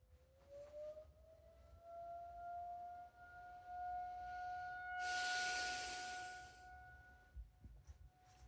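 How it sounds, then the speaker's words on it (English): Civil defense sirens sound a steady, rising wail during a weekly test in the Twin Cities metropolitan area, continuous throughout, with a brief louder burst of broadband noise partway through. "The sirens are still going off."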